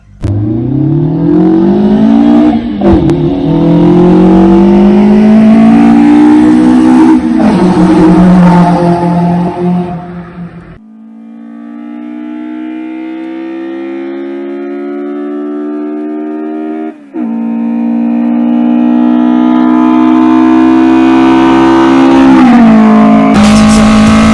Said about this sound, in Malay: korang boleh dengar sound dia tak adalah sebingit kereta lain.